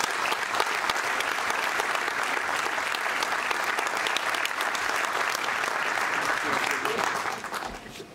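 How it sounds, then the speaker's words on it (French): A crowd at a municipal New Year's greetings ceremony gives a long burst of dense, steady applause, fairly distant and even, tapering off near the end. "je vais vous redemander un tonnerre d'applaudissements"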